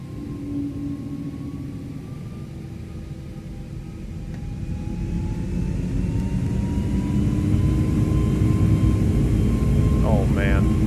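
Airbus A321neo jet engines spooling up to takeoff thrust in a flight simulator, a broad roar with a steady whine that builds gradually in loudness across the clip.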